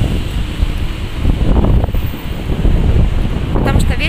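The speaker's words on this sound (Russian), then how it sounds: "погода такая ветреная" Strong gusts of wind buffet the microphone outdoors in Davultepe, Mersin, Turkey, a steady loud rumbling roar with swelling peaks and no speech.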